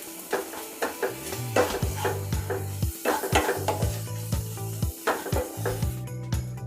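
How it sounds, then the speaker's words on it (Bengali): Ground spices fry in a pan for paneer masala curry, a soft sizzle under repeated rhythmic scraping and stirring strokes against the pan, close and fairly quiet. "এবার আমরা আবার মশলাগুলো দিয়ে ভাজার চেষ্টা করব।"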